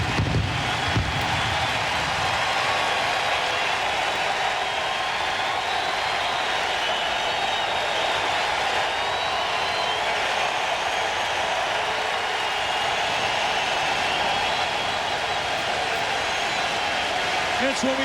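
Large stadium crowd at the 2002 MLB Home Run Derby cheering Milwaukee Brewers slugger Richie Sexson, a dense sustained roar of cheers and applause throughout, with a voice speaking over it.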